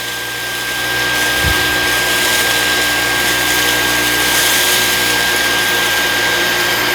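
A Dyson V15s Detect Submarine cordless vacuum with its carpet attachment runs in boost mode on carpet, a loud, close, steady whine and rush of air that rises slightly after the first second.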